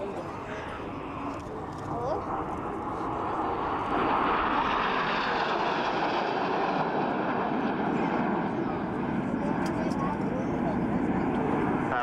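Red Arrows jets flying a corkscrew display at an RAF Leuchars airshow, a loud continuous jet roar that swells after a few seconds and holds steady, with a commentator talking over it.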